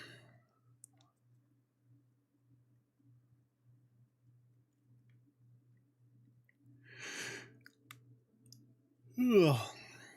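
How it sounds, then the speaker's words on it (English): A streamer yawns close into the microphone: a soft breathy burst, then a drawn-out voiced yawn that slides downward in pitch near the end, over a faint steady background hum. "I'm sorry for yawning y'all's ear"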